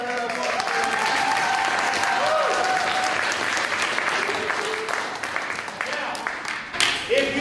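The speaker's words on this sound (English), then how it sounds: "Let's give Marion a round of applause." Audience applause for Marion, arranger of a piece at a Martin Luther King Jr. winter school concert: a dense, steady wash of clapping from a full room lasting the whole stretch, with some voices and a tonal hum mixed underneath.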